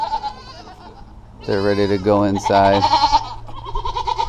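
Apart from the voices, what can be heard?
goats bleating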